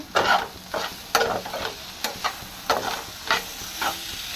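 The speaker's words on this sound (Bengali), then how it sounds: "এদিকে এই যে ভেন্ডি আর আলু দিয়ে ভাজি করছি" Okra and potato stir-fried in a pan, with a soft continuous sizzle broken by regular scraping strokes of a spatula, roughly one every half second, close and clear.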